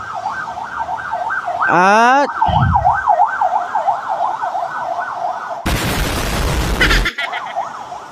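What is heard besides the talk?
ambulance siren passing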